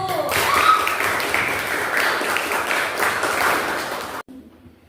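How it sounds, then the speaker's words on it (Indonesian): A room of people applauds for a presenting group at a teacher performance assessment, dense clapping that swells, holds for about four seconds and then cuts off sharply into quiet, with faint voices mixed in. "Beri tepuk tangan untuk kelompok 1"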